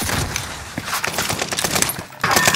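Gunfire in the Warzone video game, heard as dense rapid bursts of shots layered with crackling impacts, loud and continuous across the short stretch, with a brief dip near the end before a sharp return.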